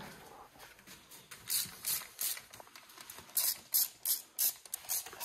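A ratchet tightens screws on a 70cc Piaggio NRG scooter engine being reassembled, a run of quick crisp clicking bursts in an even rhythm, heard close and alone.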